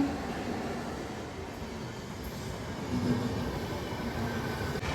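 A train rolls past a village railway level crossing, a steady broadband rumble of wheels and cars at fairly close range, holding even and continuous with no voices.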